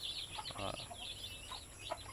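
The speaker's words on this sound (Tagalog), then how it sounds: "papakita ko sa inyo yung mga native chicken natin no" Native chickens in a newly built coop clucking and chirping close by, short irregular calls over a steady background hiss, with a brief louder squawk midway.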